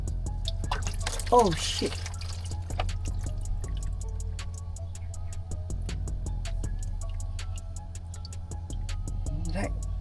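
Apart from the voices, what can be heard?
diesel dripping during Isuzu D-Max fuel filter replacement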